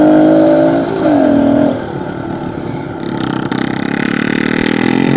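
A pit bike engine revving on a muddy hill climb, its note rising and falling in quick surges before settling into a rougher, steady drone, loud and close with no speech.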